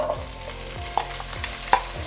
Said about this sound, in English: we'll cook the vegetables in that